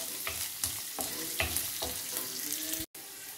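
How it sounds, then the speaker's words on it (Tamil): Garlic and onion sautéing in a pan for Andhra pappu charu, a steady soft sizzle with a few scraping stirs of a spoon, close and continuous. "நம்ம போட்ட பூண்டு வெங்காயம் எல்லாமே நல்லா வதங்கிடுச்சு"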